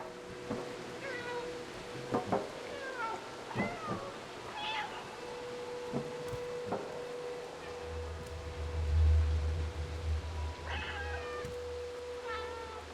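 Cat meows from the video game Stray, several short plaintive calls spread across the stretch, fairly close, over quiet ambient game background with a low rumbling hum partway through.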